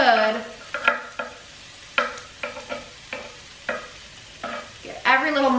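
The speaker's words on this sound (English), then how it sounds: "And then I'm also gonna add the garlic now." Garlic sizzles in hot olive oil as a spoon stirs it, with a steady frying hiss broken by repeated scraping strokes at an irregular rhythm, close and moderately loud with no talking.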